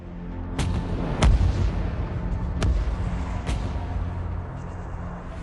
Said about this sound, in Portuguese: Cada canhão usando até 6 dessas cargas explosivas de 15 quilos para disparar uma única cápsula.